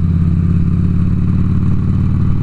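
A 2006 Harley-Davidson Ultra Classic engine runs during a morning ride toward York, Pennsylvania, a loud, steady, low throbbing rumble with even pulsing beats, close and continuous with no talk.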